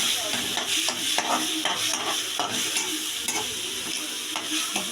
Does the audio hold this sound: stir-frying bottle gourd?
yes